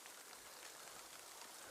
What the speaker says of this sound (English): As the rain descends upon me,